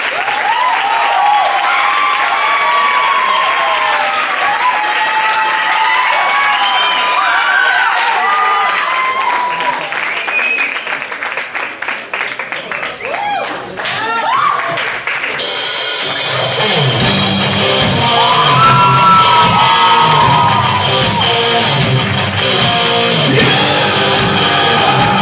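Audience applause and cheering for a performer and his band, loud and sustained, then growing brighter and denser after the midpoint as the crowd at the metal show roars louder, with voices shouting among the clapping.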